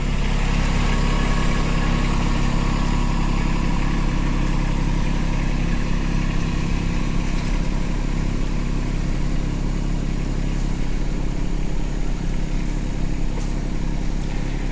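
A Kubota B2601 small tractor engine runs steadily at a close, even pitch with a constant low rumble for the whole stretch, heard alone without talk.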